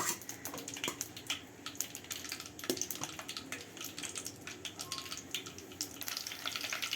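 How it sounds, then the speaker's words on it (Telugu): Green chillies hit hot oil in a pan, spitting and crackling in quick irregular bursts over a bubbling sizzle, close and moderately loud, with no talking. "నూనె వేడెక్కేసింది ఇప్పుడైతే పచ్చిమిరకాయలు వేసుకుంటున్నాం"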